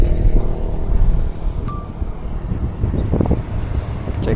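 Strong wind buffets the microphone in a continuous, loud rumbling roar on an open outdoor spot, steady throughout with no talking.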